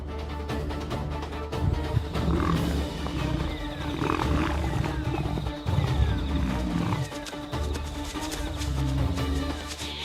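A lioness on the savannah gives deep rumbling roars and growls, loud and close, repeating in bursts throughout with no talk.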